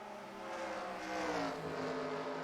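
Race cars roar and accelerate along the track at Pukekohe, a sustained engine drone rising in pitch and swelling louder at mid-distance before easing slightly, with no voices.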